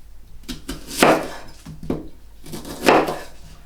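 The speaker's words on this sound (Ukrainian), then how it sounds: "Тепер я нарізаю цибулю." A knife slices an onion into half-rings against a cutting board, a few irregular crisp chops with quiet pauses between, close and fairly clear, no talking.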